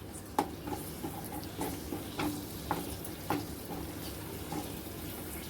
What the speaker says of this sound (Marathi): कढीपत्ता, कोथिंबीर, आणि छान परतूया.